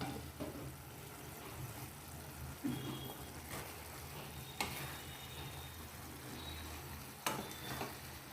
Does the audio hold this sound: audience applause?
no